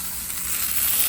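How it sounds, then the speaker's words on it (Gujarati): Mustard seeds, cumin and curry leaves sizzling in hot oil for a tempering in a home kitchen, a loud, steady close hiss that swells slightly, no voices. "રાઈ, જીરું, કઢી પત્તાનો વઘાર"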